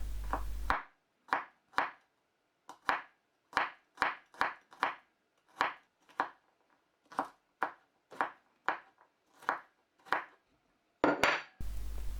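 A knife chops a single garlic clove into small pieces on a cutting board while preparing solyanka. There are about seventeen crisp, close, evenly spaced strikes with short silent gaps between them, and no talking.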